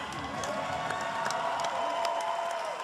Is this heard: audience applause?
yes